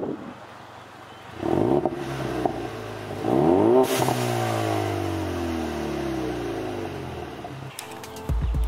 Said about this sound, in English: for the exhaust, we do have Accelatec Axleback exhaust. Give you guys a quick little sound clip.